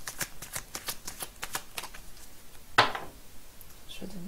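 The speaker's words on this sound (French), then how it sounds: "Je vais les mélanger." Oracle cards being shuffled by hand in a quiet room, a rapid series of soft riffling flicks for about two seconds, then a single sharper tap of the deck and faint handling sounds.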